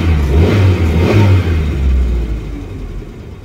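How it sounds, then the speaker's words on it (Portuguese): A Ford Pampa, Corcel or Belina car engine revs up close and loud, then the rumble gradually eases off and fades lower. "tô tirando o pé, acelerando pra vocês verem que agora ele tá alinhadinho."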